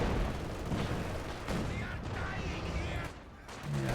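Heavy machine gun fire and distant battle noise in the WWII strategy game Company of Heroes 2, a dense continuous rattle with scattered booms and a speaking voice over it.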